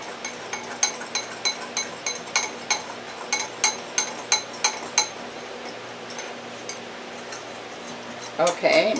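A utensil mixing gravy in a container, with a rapid run of light metallic clinks and taps against the vessel, fairly close, then a brief shuffle at the end.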